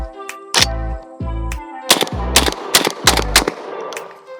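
An ATI Bulldog bullpup shotgun fires five rounds of birdshot in quick uneven succession, each blast loud and close with a ringing tail, the later shots coming faster.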